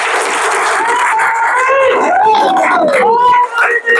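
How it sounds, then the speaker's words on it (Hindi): An audience claps and cheers at a business development training session in Dumka, Jharkhand, the loud applause mixing with voices and shouts from the crowd. "सबसे पहले इस प्लेटफॉर्म के लिए जोरदार ताली एक बजाइए आप लोग"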